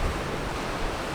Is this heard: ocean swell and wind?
yes